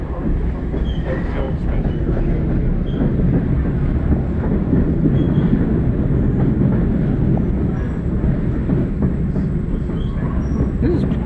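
A train ride at a transportation museum, with a constant loud rumble of rolling railcars and wheels clattering on the track, interior and close, with occasional voices underneath.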